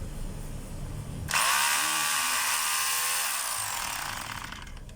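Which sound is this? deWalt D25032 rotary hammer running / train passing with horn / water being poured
deWalt D25032 rotary hammer running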